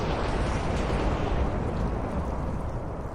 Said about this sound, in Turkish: Sırada ne TNT'si var? Yıldırım TNT'si. Al patlat.